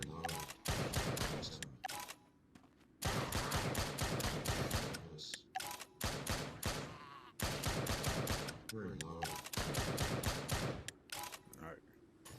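Rapid bursts of gunfire in the light-gun arcade game Drop Dead: Dual Strike, dense volleys of shots in repeated clusters with short gaps between, loud and close, with a voice talking in between.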